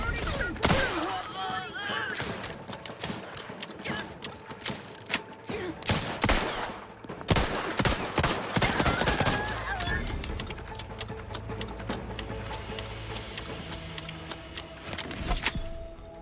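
Rapid bursts of gunfire crackle in The Outer Worlds 2, dense volleys mixed with game effects and a voice talking over the shooting.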